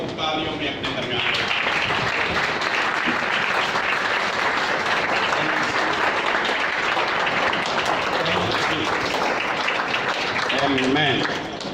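A church congregation breaks into applause, a dense, continuous wall of clapping that carries on for several seconds at an even level, with a voice faintly audible near the start and end.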